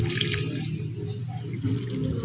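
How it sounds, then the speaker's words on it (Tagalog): Water poured onto a freshly repotted apple seedling in garden soil with rice hull, a steady close splashing trickle that runs continuously throughout. "So, didiligan lang ng tubig guys."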